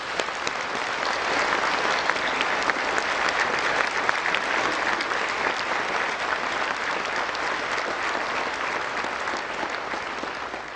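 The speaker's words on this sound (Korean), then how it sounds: "그러면 이왕 박수 치는 거 우리 대통령님과 김건희 여사님께 다시 한번 박수 부탁드리겠습니다." A large audience at a national prayer breakfast applauds the president and first lady, with a dense, even roar of clapping that holds steady for about ten seconds, heard alone.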